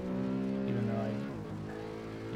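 A car engine in a self-driving car driving game roars steadily at full throttle down a straightaway, its pitch climbing and then dipping, loud and close, with no voices.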